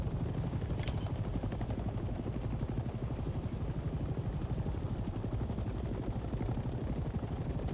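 Steady rotor thump and engine drone of a helicopter flying in the Vietnam-era war video game Hell Let Loose Vietnam, a continuous loud rhythmic chop filling the whole stretch with no talk.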